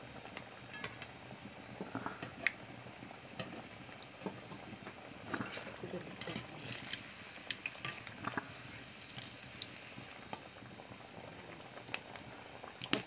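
A pumpkin mixture for gharya simmering in a pot gives off faint, soft bubbling with scattered small pops and plops, an irregular low burble heard close but quiet throughout.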